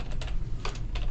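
Close computer keyboard typing of C++ code, three quick bursts of key clicks over a low background hum.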